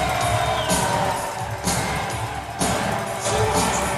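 A hockey arena crowd at the Fort McMurray Oil Barons home game roars and cheers after a win, a broad, sustained wash of crowd noise with repeated swells.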